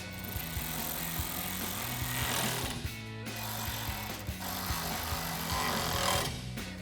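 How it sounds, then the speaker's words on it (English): Power ratchet or driver spinning a T30 Torx socket to tighten bolts on a Jeep Wrangler JL soft top bracket, a steady buzzing whir with brief pauses and repeated clicking, close and alone. "And we'll take our T30 Torx socket to tighten this down."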